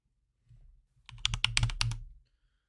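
A short flurry of keystrokes on a computer keyboard, close and clear, a few soft taps followed by a quick run of typing.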